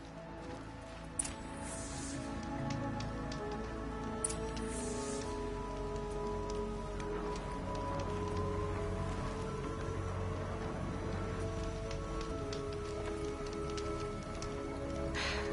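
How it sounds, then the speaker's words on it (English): Steady rain patters on surfaces throughout in the video game Horizon Zero Dawn, a soft continuous hiss with scattered drips and a low ambient hum beneath. "Rain."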